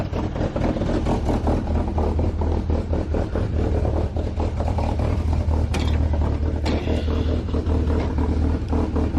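Engine of an abandoned boom lift that had sat unused for over a year, running rich and rough with a steady close low rumble and a couple of brief sharp knocks.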